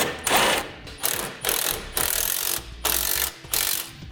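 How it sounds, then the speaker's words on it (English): Hand ratchet tightening a 3/4 inch bolt on a Roadmaster crossbar-style base plate kit mounted to a 2015 Chevrolet, heard as close, loud bursts of rapid clicking in repeated strokes with short pauses between. "Now we can begin tightening our hardware that's going to hold this to the vehicle."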